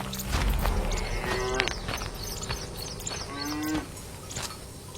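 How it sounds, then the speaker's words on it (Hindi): A cow on a farm moos loudly and repeatedly, long drawn-out calls close by with steady background noise and no talking. "गाय जोर जोर से आवाज कर रही होती है।"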